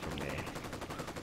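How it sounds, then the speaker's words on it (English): Gunfire in the video game Ghost Recon Wildlands, with rapid bursts of automatic shots rattling continuously through a brief, busy stretch of combat. "I don't even know where that fire is coming from."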